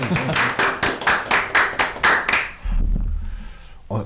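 Audience clapping at a Korean lecture on studying the Korean language: about nine loud, evenly spaced claps in a rhythmic beat, then a low rumble and a brief voice near the end.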